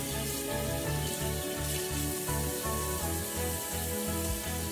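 Water running hard from a tap as a stuffed pickle is rinsed, a loud continuous rushing splash with a rhythmic low pulsing underneath, no talking.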